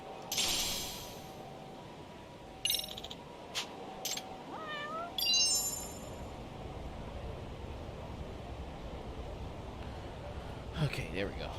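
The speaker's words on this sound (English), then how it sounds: "Another cat." A cat meows several times, short rising calls over a steady background hum, with voices talking now and then.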